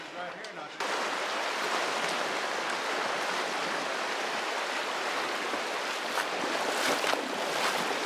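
Steady broadband rush of the flooded Gila River's swift current fills the whole clip, loud and close, with a brief quieter moment at the very start.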